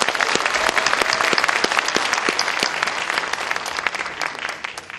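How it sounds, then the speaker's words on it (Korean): A crowd at a joint campaign rally in Daejeon applauds the candidates. The clapping is dense and lively, with distinct nearby claps standing out, and it gradually thins toward the end. "우리 9명 후보들 따뜻한 박수 좀 보내주십시오."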